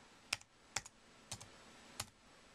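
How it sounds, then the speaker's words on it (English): Keys tapped on a keyboard connected to an iPad, four crisp, close clicks at an uneven pace, each with a faint second tap, over a quiet background. "I'll type it here, Y-O-U"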